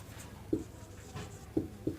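A pen scratches across paper in a few short, separate strokes. The sound is faint and close over a quiet background hum.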